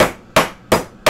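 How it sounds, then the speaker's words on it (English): A steel hammer taps the tips of a ring back together while the ring is being soldered. Four sharp metallic strikes land close and loud at a steady pace, each ringing briefly before the next. "And you can also use a steel hammer"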